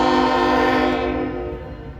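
Union Pacific eastbound freight train moving from the Transcon line onto the former C&W line at Fremont, Nebraska, its horn blaring loud and sustained over rumbling wheels before easing off.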